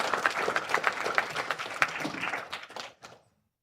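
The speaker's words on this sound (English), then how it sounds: "Quick round of applause for that fund coming together." A church congregation applauds during a service, steady dense clapping that carries for a few seconds before thinning out and fading to silence.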